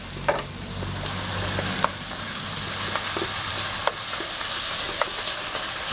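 Minced meat frying in a pan for potatoes stuffed with minced meat, a steady close sizzle with a low hum underneath and a few sharp clicks of a utensil stirring it.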